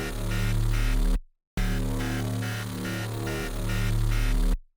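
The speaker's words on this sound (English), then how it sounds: "like gritty synth. I love this synth a lot." A gritty, buzzing synth one-shot called Nightwolf Synth plays twice, each hit long and dense with a pulsing wobble and a low rumble, separated by a short silence.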